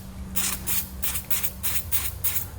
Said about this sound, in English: We're just going to use a little bit of spray to clean it out of there